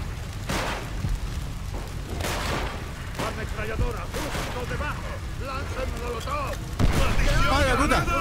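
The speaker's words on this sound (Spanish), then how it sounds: "¡Ametralladora justo debajo!" Machine gun fire in Call of Duty: World at War comes as repeated bursts and booms amid a busy battlefield, with shouted voices over the gunfire and a louder burst near the end.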